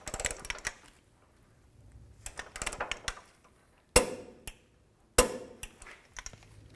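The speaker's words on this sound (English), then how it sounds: "So let's get our torque wrench on there." A torque wrench tightens the front lower control arm bolt on a 2008-2012 Ford Escape: sparse ratcheting clicks in short bursts, then two sharp, louder metallic snaps with quiet gaps between.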